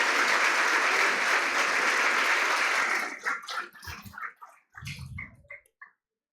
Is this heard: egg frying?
no